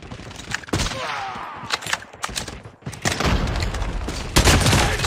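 Rapid bursts of SP-R 208 rifle gunfire in Call of Duty Mobile, repeated shots cracking loudly over a busy, noisy battle backdrop.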